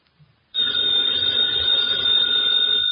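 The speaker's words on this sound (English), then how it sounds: "that phone bell means adventure" A telephone bell rings in a 1950 radio drama, one continuous bright trill that starts after a brief quiet moment and sustains at full loudness to the end.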